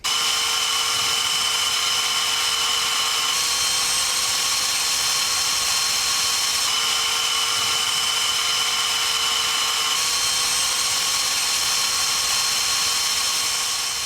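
EGO cordless lawn mower with an 8Ah or 10Ah battery, its motor whining steadily and loudly with no talk, the pitch stepping up slightly at intervals as it kicks into turbo mode.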